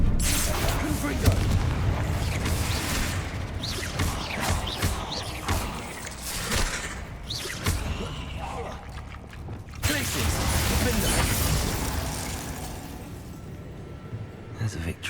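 Explosions from the Confringo spell in the video game Hogwarts Legacy, several loud booms and blasts bursting over dense game sound effects and music, with a voice talking between them.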